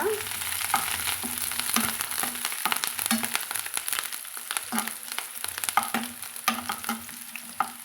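Curry leaves and green chili sauté in a pan for chilli chapati, with a soft, steady sizzle punctuated by frequent close stirring scrapes and taps of a spoon.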